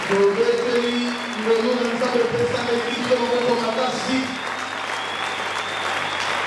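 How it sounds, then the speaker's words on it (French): A congregation at a night prayer service in a church applauds God with loud, sustained clapping from many hands, mixed with cheering and vocal exclamations, and the applause eases slightly toward the end. "Est-ce qu'on peut bien acclamer Dieu pour la grâce accordée?"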